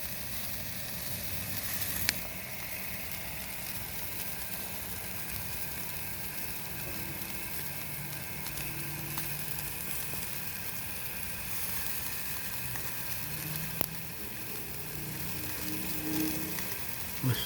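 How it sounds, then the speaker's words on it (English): Asado meat sizzles on a grill in a steady, dense crackle that holds for the whole stretch, with a few sharp clicks and no voices. "Listen to the sizzle."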